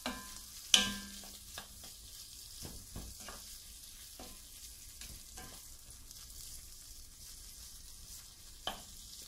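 Chicken and vegetables pan frying, a faint low sizzle broken by occasional stirring taps and a sharp clank near the start, quiet with no one speaking.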